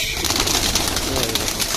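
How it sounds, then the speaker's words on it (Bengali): Pigeons coo in a village loft, a close, continuous layered chorus of soft rolling calls from many birds at once. "অনেক কবুতর যে দেখতে পাচ্ছেন, অনেক কবুতর কিন্তু আছে।"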